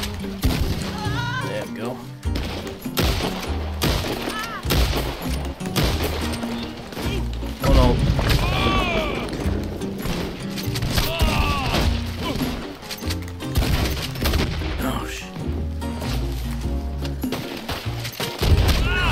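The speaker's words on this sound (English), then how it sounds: "Both of them shooting at me." Enemy gunfire in Red Dead Redemption 2 Online, with scattered shots, thuds and impacts throughout, heard beneath game music and frequent talking.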